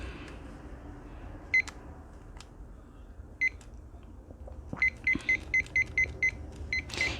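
A machine gives short electronic beeps over a low hum, a few spaced single beeps early on and then a quick run of repeated beeps toward the end, with no talking.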